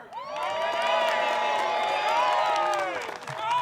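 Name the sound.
crowd cheering at a disc golf tournament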